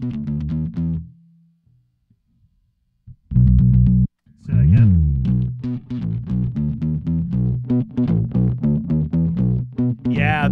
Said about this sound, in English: Oh, I definitely like this distortion better.